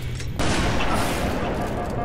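Rapid gunfire from dual pistols in a console shooter game, a dense sustained burst of shots that jumps louder after a brief quieter start and continues steadily throughout.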